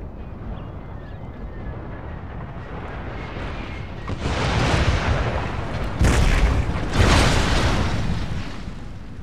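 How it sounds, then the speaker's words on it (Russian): Artillery fire in Empire: Total War, a continuous dense rumble of distant cannon and battle noise that swells with two heavy, loud booming bursts toward the end. "Зверская здесь артиллерия в этом моде."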